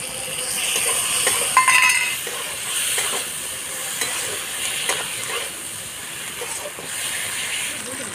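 Steady sizzling and hissing of chopped tomatoes frying in a hot pan, with occasional light scrapes from stirring, close and fairly loud.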